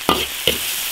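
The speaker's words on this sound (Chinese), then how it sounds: "所有调料炒香" Meat stir-fried in a wok with ginger, garlic, chili sauce, Sichuan pepper and chilies: two sharp sizzling bursts as ingredients are tossed, over a steady frying hiss, close and moderately loud.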